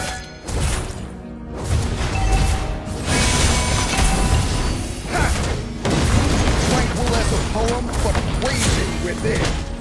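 Mobile Legends turret under attack and destroyed, with booming blasts, crashes and clattering skill effects over game music, and in-game announcer voice lines throughout.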